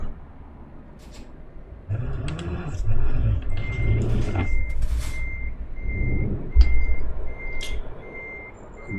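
A truck in Euro Truck Simulator 2 reverses to hitch a trailer: a steady run of reversing beeps repeats over a low diesel engine rumble, with a brief air-brake hiss partway through.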